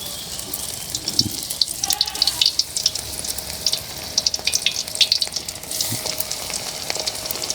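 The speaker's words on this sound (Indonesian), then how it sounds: "Terus kita goreng tempenya lur ya." Sliced tempeh frying in hot oil in a pan, a continuous crackling sizzle with scattered pops, close and moderately loud, no talking.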